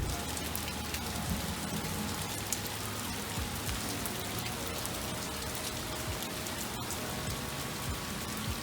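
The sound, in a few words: rain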